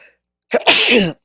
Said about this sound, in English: I'm having a sneezing attack and coughing attack and everything else